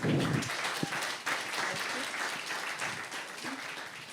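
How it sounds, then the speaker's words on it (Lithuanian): Steady applause from an audience fills the space, a dense wash of clapping that carries on evenly without pause. "Tai garsiai šiltais plojimais pasitikime"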